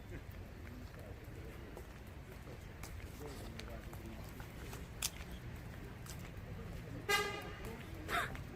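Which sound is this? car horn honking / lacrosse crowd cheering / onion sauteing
car horn honking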